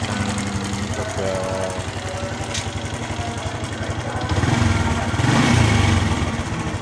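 A motorcycle engine is started with the electric starter. There is a rhythmic churning and knocking as it cranks, then a low, rougher running sound that swells toward the end, close by.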